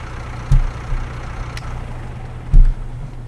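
Small tractor engine in Farming Simulator 19 pulling a rear-mounted mower across a misty field: a steady low idle-like drone with two brief louder engine bumps, no talking.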